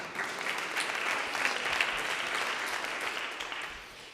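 An audience at a grassroots meeting about new maps applauds, a steady wash of many hands clapping at moderate distance, fairly even in level and easing slightly at the end.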